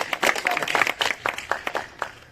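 Audience clapping at a Hindi and Rajasthani poetry and song recital, a burst of scattered applause that thins out toward the end, with a voice faintly under it.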